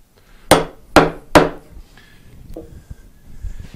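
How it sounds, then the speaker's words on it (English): Chisel struck into wood along a scored knife line, three sharp, close mallet blows in quick succession followed by faint scraping and tapping. "stick your chisel in that knife line we just scored"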